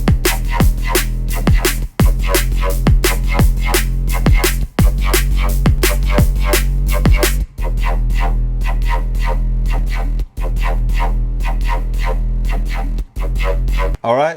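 The Black Panther synth bass preset from Phase Plant plays a heavy, sustained low bass line alongside a busy drum loop, loud and continuous, with short gaps where side-chained hits duck the sound.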